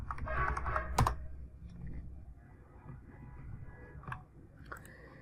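Keys clatter on a computer keyboard while logging in to point-of-sale billing software, with a quick irregular run of soft taps and a few sharper clicks, close and fairly quiet.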